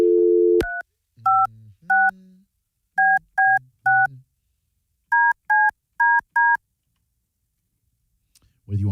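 A telephone number dialed by touch tone, a brisk run of about a dozen short beeps in uneven clusters, with soft clicks between them, loud and close.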